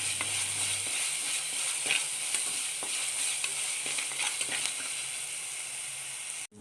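Ginger, garlic and green chilli frying in hot oil for a squid dish, a steady loud sizzle with scattered spatters and stirring scrapes, continuous throughout with no talk until it cuts off abruptly at the end.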